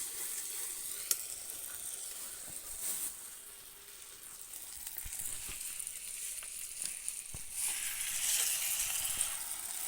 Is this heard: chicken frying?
yes